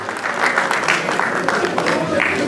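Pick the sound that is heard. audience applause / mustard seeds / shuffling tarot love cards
audience applause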